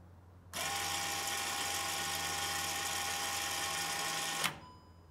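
Electric parking brake motors on a car retract their calipers, triggered through an OBDeleven diagnostic tool: a steady mechanical whirring hum runs for about four seconds, then stops with a brief clunk.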